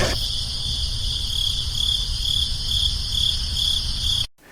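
A dense chorus of crickets, bought by the thousand from a pet store, chirping in a continuous high trill over low rumbling background, loud and close, cutting off abruptly at the end.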